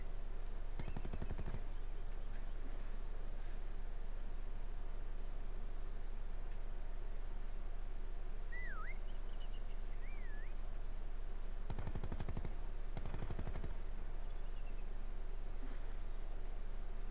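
Gunfire in the Call of Duty Black Ops 4 video game during a prop hunt match: a quick burst of rapid shots, a long quieter stretch, then two more clustered bursts near the end, fairly faint overall.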